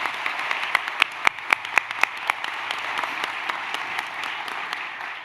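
An audience at an education awards celebration applauds, a dense wash of clapping with a few sharp, louder claps standing out near the start.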